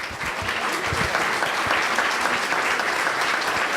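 Steady round of applause for a city council member at a candidate town hall in Costa Mesa, a dense even wash of clapping from an audience, moderately loud and unbroken.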